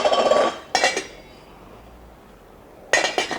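A metal lid clanking onto a pot of boiling shellfish, sharp clinks and rattles at the start and again near the end, close and loud with no talk.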